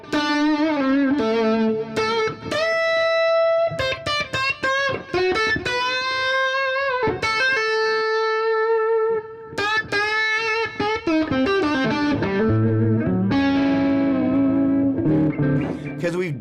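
A heavily modified Gibson electric guitar with distortion plays a busy stream of overdriven notes and short phrases, with brief gaps between them, loud and close, and no talking.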